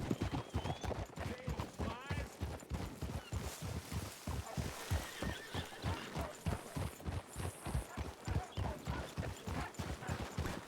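A galloping horse's hooves pound in a fast, relentless rhythm across a long stretch of riding in a Western roleplay video game, close and steady, with a whinny mixed in.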